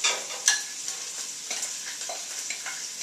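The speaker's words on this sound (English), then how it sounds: "And they're in the olive oil, and I can hear them now. They're browning up." Garlic, sage, marjoram and rosemary browning in olive oil in a soup pot: a soft, continuous sizzle with occasional crackles and pops, close and fairly quiet, with no voices.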